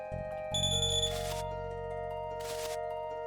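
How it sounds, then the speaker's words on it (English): A bell rung by a bird enemy in Chrono Trigger, a bright chiming ding over steady game music, with two shimmering rings close together and loud. "the fact that it's a bird that just rings a bell and summons more enemies"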